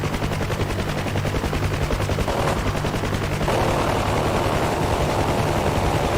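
Continuous rapid cannon or machine gun fire from a combat aircraft in a flight combat game, steady and loud throughout with engine drone underneath.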